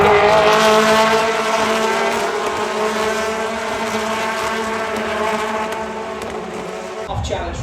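BTCC touring cars race at Silverstone, loud engine roar and whine holding steady for about seven seconds before a sudden drop, with a commentator talking over the noise throughout.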